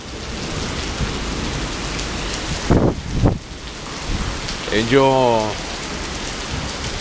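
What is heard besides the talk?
heavy rain and hail thunderstorm in Mexico City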